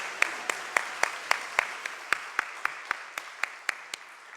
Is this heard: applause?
yes